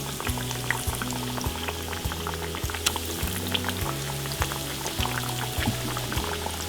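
Beef cutlets sizzle and crackle steadily in hot oil in a small frying pan, with a constant bubbling fry close by and a low hum underneath.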